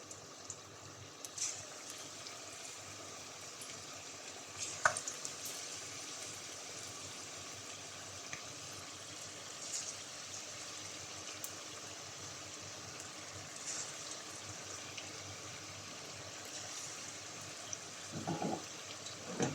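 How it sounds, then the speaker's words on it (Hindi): Egg pakoras deep fry in oil in a pan on a medium flame, giving a steady, faint bubbling hiss that runs without pause and has a few small pops. "अब हम इनको 2 से 3 मिनट मीडियम फ्लेम पर फ्राई करेंगे।"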